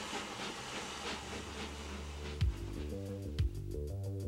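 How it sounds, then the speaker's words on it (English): Sugar Train, an 1890s replica steam locomotive running the line from Ka'anapali to Lahaina in Hawaii: steady hiss and rumble, then two sharp low chuffs about a second apart, at moderate distance. "The Sugar Train, an 1890s replica, runs a 6-mile course from Ka'anapali to Lahaina."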